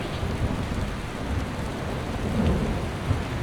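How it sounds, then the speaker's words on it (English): Heavy rain pours steadily with rolling thunder in Skyrim, a dense, constant low roar that swells slightly midway, with no talking over it. "it's piss pouring rain"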